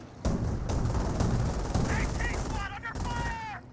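Rapid automatic gunfire from a light armored halftrack in the World War II strategy game Company of Heroes, dense crackling bursts amid battle noise, with a voice talking over part of it.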